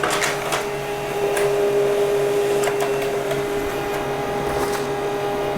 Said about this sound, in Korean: 다른 업무를 하던 중에 스마트폰에 도착한 문서나 아니면 촬영한 사진도 바로 이렇게 인쇄를 할 수가 있습니다.